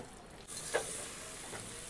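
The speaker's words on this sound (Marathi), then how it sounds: "थोडासा अजून परतू दे, कारण आपण शिमला मिरची आताच घातली आहे" Pav bhaji masala with capsicum sizzles in a pan as it is sautéed, a soft steady frying hiss with a brief stir or scrape partway through and no talking.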